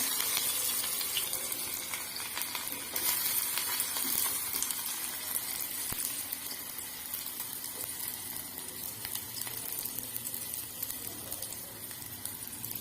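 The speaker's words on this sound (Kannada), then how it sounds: "ಈರುಳ್ಳಿನ ಚೆನ್ನಾಗಿ ಫ್ರೈ ಮಾಡ್ಕೋಬೇಕು" Onions with cumin and mustard seeds sizzle in a pan, a dense, steady hiss that runs without pause, close and even in loudness.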